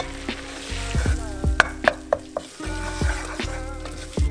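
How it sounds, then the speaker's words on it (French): Flour being stirred into 150 grams of melted butter in a pan for Albanian halva, heard as a loud, close sizzle with rhythmic scraping strokes and clinks of the utensil against the pan. "je mets plus ou moins 300 grammes de farine et je mélange"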